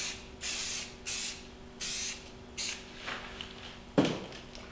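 Four or five short, close hisses of a spray bottle mist colorant onto a white epoxy countertop sample board, evenly spaced, the last ones fainter, ending with a soft knock.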